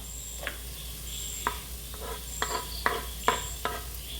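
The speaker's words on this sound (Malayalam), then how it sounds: "അപ്പം തട്ടി കൊടുത്തു ഇങ്ങനെ ഇളക്കി കൊടുക്കാം" Chopped green chilies stirred in a pan for kadai chicken, a soft background sizzle broken by about eight sharp spatula scrapes and taps at irregular intervals, close and clear, no voices.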